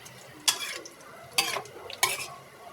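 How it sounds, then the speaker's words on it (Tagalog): Adobong kangkong with fried dalagang bukid being stirred in a pan: three distinct scraping strokes of a utensil over a soft background sizzle, close and clear. "Haluin lang natin."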